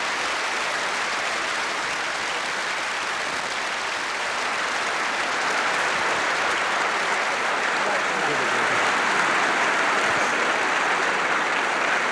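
Snooker audience at the 1978 UK Professional Snooker Championship final applauding Doug Mountjoy after his winning 120 break, a dense, steady wash of clapping that holds loud and even throughout and swells slightly toward the end.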